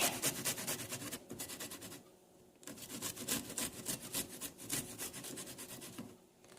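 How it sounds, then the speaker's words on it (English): Garlic and ginger rubbed against a grater in a home kitchen, making rapid rasping strokes in close bursts that pause briefly around two seconds in and again near the end. "so we grated our garlic and our ginger"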